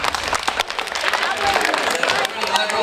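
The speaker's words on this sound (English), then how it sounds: "Let's see who can clap them the loudest." Audience members at a church Christmas program clap their hands hard and fast in dense, uneven bursts, with voices mixed in among the clapping.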